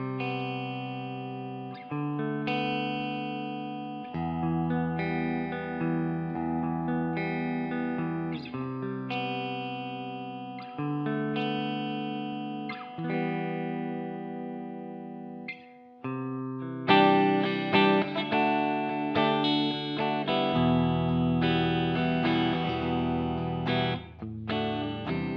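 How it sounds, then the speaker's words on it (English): An electric guitar plays sustained clean-tone chords and riffs through an ML800 amp simulation, with ringing notes and a fuller, louder passage in the second half. "something like classic clean, where you can just chuck it on and play clean riffs"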